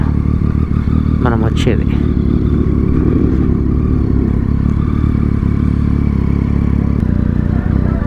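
A Triumph Street Triple motorcycle engine drones loudly and steadily while riding, with wind rush throughout and someone talking over it.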